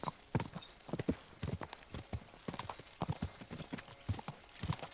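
Horse hooves clip-clop in a steady, quick rhythm while riding in the medieval game Kingdom Come: Deliverance II, close and clear with no talk over them.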